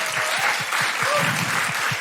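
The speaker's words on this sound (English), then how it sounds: "A big round of applause for Bronté and Bex." Steady, fairly loud applause from a live comedy show audience fills the whole moment, with regular low thumps underneath and no voices on top.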